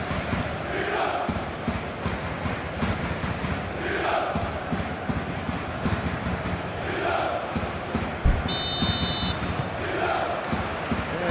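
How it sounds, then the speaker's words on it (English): A referee's whistle in the PES football video game, a short shrill blast late on that cuts over a steady roar of chanting stadium crowd throughout. "There's the whistle, and here we go."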